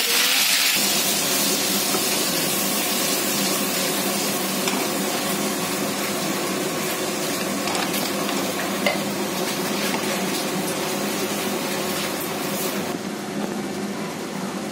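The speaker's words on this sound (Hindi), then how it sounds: "मसाले को हमें अच्छे से जो है सॉटे कर लेना है।" Ground onion paste sautéing in a hot pan for kadhai paneer, a loud continuous sizzling hiss with faint stirring, close up and without talk.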